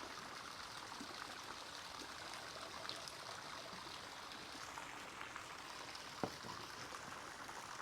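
Red wine from Argentina being poured into a glass, a steady, quiet liquid trickle running continuously with a soft splash near the end.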